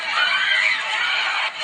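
High, sustained screaming from several women fills a brawl at a bowling alley during a family bowling night, loud and continuous with a brief dip near the end.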